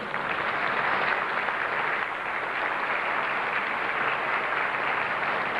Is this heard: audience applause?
yes